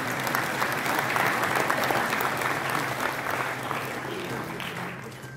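An audience applauds at a medical college's diamond jubilee ceremony attended by the state governor, a dense, sustained wash of many hands clapping that holds steady and then fades slightly at the end.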